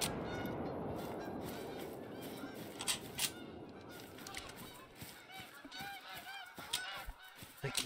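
Geese honk loudly and repeatedly in TheHunter: Call of the Wild hunting game, a noisy flock calling over outdoor ambience with a faint voice briefly underneath.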